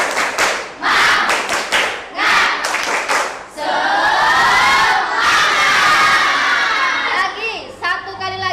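An Indonesian classroom of children performs a rhythmic spirit clap, several sharp unison claps in a pattern, then a loud group shout and cheer, with a teacher's voice leading in between.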